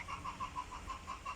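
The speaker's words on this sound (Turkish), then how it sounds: "Arkadan tavuk sesi geliyor sanırım." A chicken clucking in quick, regular pulses, faint and somewhat distant, at an outdoor dinosaur park in Antalya, with no talk over it.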